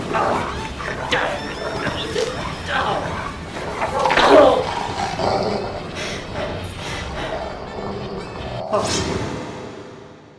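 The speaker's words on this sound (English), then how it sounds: "You stinky mutt! Get away! Get away from me!" A dog barks and whimpers in the Deadly Premonition video game, with yips mixed into the noise of game action and an excited voice talking over it throughout.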